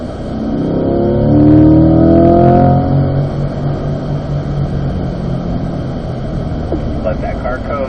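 A Corvette at a Corvette owners' driving school track session roars louder as the driver rolls onto the throttle, its engine note climbing for a few seconds before settling into a steady, loud drone, with a voice briefly talking over it.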